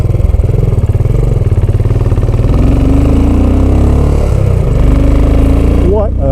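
A Royal Enfield 535 Continental GT motorcycle engine runs loudly and continuously close by, with a throbbing, rattling idle that revs slightly, and a voice speaks over it.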